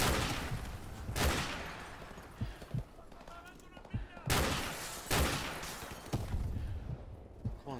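Gunfire from the video game Modern Warfare Remastered comes in a few loud, sharp bursts and single shots, separated by quieter game ambience.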